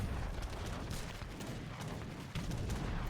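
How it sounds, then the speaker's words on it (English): Heavy cannons fire in a video game, giving a rough spread of faint, low booming blasts, some overlapping, with no one talking over them. "that's the power of heavy cannons"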